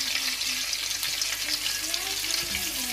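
Butter sizzles steadily in a hot pan of oil while cooking Singaporean rice, a close, constant crackling hiss with no talking.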